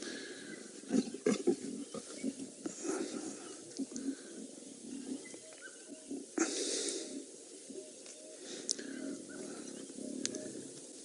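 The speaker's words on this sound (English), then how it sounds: "It's amazing how deep the growls are from these little cubs." Deep, rumbling growls from lion cubs at a fresh buffalo kill on safari, rising and falling in short bursts with snorts, close by amid outdoor ambience.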